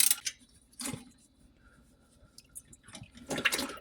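Engine oil drips into a drain pan under a Toyota RAV4 during an oil change, heard as soft, irregular splashy drips with a few louder wet bursts, close and otherwise quiet.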